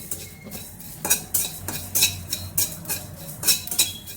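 Panch phoron spices are fried in oil in a pan for olive pickle, heard as a faint sizzle under repeated metal scraping and clinking of a spoon stirring against the pan in an uneven rhythm.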